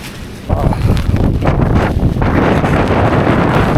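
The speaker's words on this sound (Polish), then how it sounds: "Wiatr i deszcz." Strong wind roars and buffets the microphone in a steady, dense rush, with a faint hiss that could be rain mixed in.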